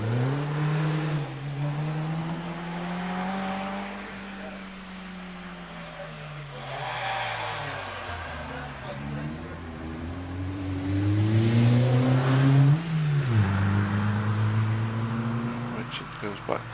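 A Caterham Road Sport 1.8, a Lotus 7-style car numbered 147, climbs the Prescott hill course, its engine rising and falling through the gears in sweeping pitch changes, heard from moderate distance beneath a commentator's voice.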